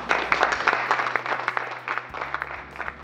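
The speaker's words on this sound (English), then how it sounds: "please give him a big applause" Audience applause at the Scandinavian Human Dignity Award 2014 ceremony greets the award winner: a dense, steady patter of many hands clapping for about three seconds, over a low, constant hum.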